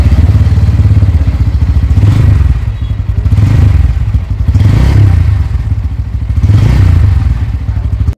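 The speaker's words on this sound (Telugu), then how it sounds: "ఒకసారి ఎగ్జాస్ట్ నోట్ అయితే వినండి" Underbelly exhaust of a 2024 Bajaj Pulsar N160 motorcycle, loud and close, with a throbbing idle that rises in several repeated throttle blips.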